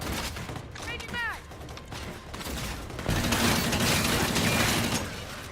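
Bursts of gunfire from a video game, sharp cracks mixed with mechanical clatter and whistling, a dense loud volley swelling in the second half, with faint game effects around it.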